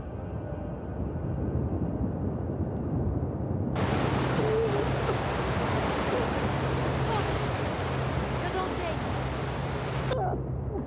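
Loud, steady rush of sea waves and surf in The Last of Us Part II swells in after a few seconds and churns continuously, with a person speaking Portuguese over the roar.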